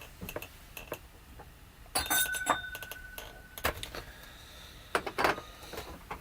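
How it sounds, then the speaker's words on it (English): Sherry glass being picked up and set down, giving several bright glassy clinks and taps scattered over a few seconds, close by and fairly clear against a quiet room. "So, let me pick up another glass."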